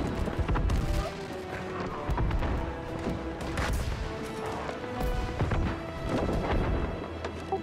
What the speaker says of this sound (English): All cannon fire on the point again